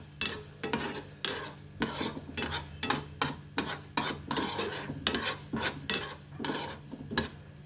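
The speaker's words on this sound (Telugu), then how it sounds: "మొత్తం కలిపి ఒకసారి వేగిస్తున్నాను" Fenugreek seeds, mustard seeds and red chillies frying together in a pan for a green chilli pickle, with repeated scraping stirs of a spoon against the metal over a soft sizzle, close and steady with no talk.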